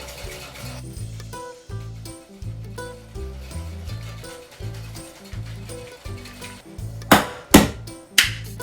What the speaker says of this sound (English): we're gonna dry shake this for about 30 seconds